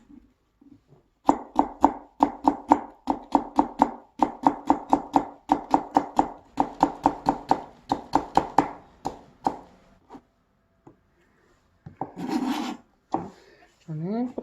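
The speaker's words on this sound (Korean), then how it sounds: "채를 썰어 줍니다." A knife cuts food into thin julienne strips on a board in a fast, steady run of crisp chops, a brief pause, then a few scattered cuts and a soft voice near the end.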